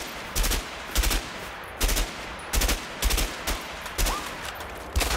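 M14 rifle firing in A Way Out, a regular series of sharp, loud single shots spaced roughly half a second to a second apart, each followed by a brief echoing tail over a quiet background.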